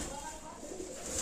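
Pigeons in a loft cooing softly, a low murmuring call over a faint hiss, with a person's voice faint in the background.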